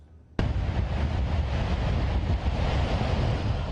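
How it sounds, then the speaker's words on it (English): Ocean surf roars at a beach in Nungwa, Accra, a loud continuous wash of breaking waves kicking in abruptly and holding steady with some wind buffeting, no voices. "Roaring ocean sounds from mighty beach here in Nungwa, Accra."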